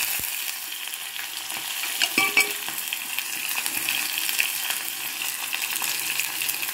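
Chopped onions and curry leaves drop into hot oil for a traditional chicken curry, sizzling loudly and steadily with a sharp metallic clink of a utensil near the start.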